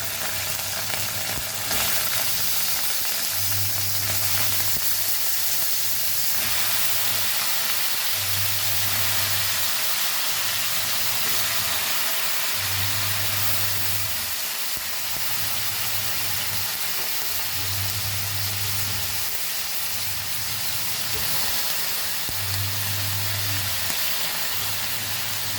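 Vegetables for a Goan vegetable stew sizzling in a hot pan, a loud steady frying hiss with periodic low rhythmic stirring or scraping pulses, no talk.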